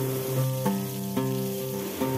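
Raw mango pieces fry in mustard oil with mustard seeds and dried red chilli, a soft steady sizzle broken by a few short stirring scrapes, close and fairly quiet.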